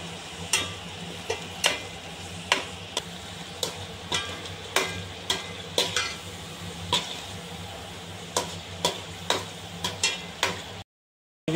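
Ground masala paste with ginger, garlic and tomato frying in a pan for gongura fish curry: a steady close sizzle punctuated by regular sharp taps and scrapes of a stirring spoon, with no talking.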